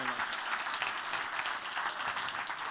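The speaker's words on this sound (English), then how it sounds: "Give them both a big round of applause." Audience applause for pickpocket volunteers at a school demonstration, a steady wash of clapping from a crowd, fairly distant and even throughout.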